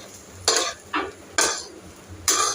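A utensil scrapes and stirs rice fried with egg in a pan, four short separate strokes against a faint background sizzle.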